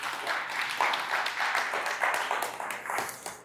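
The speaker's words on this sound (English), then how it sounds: "thanks for all 4 of those golf claps" A small audience in a comedy club gives sparse, polite golf clapping, a light patter of handclaps rising and falling in uneven bursts for a few seconds.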